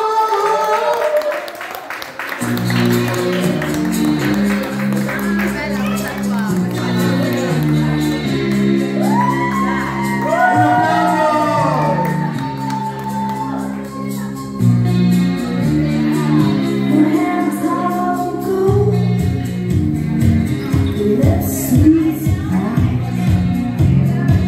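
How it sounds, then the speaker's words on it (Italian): A live audience at a drag show for drag queen Sandra Show claps, whoops and cheers in a sustained loud roar, with music playing underneath throughout. "Ragazzi, ragazze, un bel applauso alla nostra, ancora una volta, fantastica Sandra Show."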